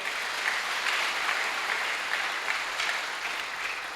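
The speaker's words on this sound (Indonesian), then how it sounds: "Kita berikan tepuk tangan yang meriah." Steady, sustained applause fills a hall as the audience claps at a televised debate between regency head candidates in Talaud in 2018, broad and even without a break.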